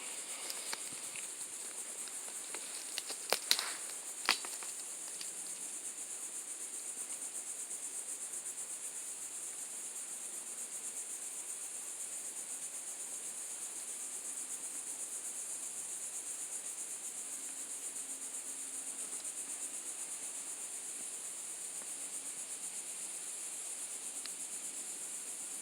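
Cicadas drone in a garden where bees work boneset flowers, a faint, unbroken high-pitched hum that holds steady throughout, with a couple of brief clicks near the start.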